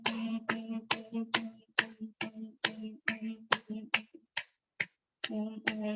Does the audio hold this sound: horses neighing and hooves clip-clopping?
no